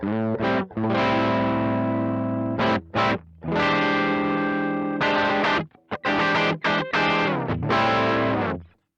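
Overdriven electric guitar chords through a Sonicake Twiggy Blues overdrive pedal ring out loud and sustained, strummed in a few separate bursts with short gaps between them, no talking.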